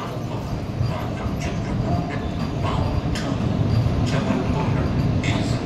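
The Dehradun Vande Bharat train rolls into platform 6 at Lucknow Junction, a steady rumbling roll with faint rhythmic clicks of wheels on rail joints, close, while someone talks over it.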